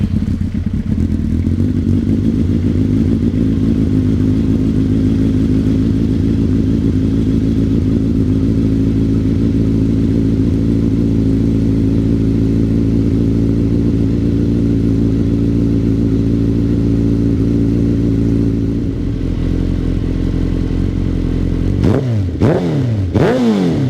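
A rare Suzuki GSX-R1000 K2 Crescent motorcycle engine runs at a loud, steady idle close by, then revs sharply several times near the end.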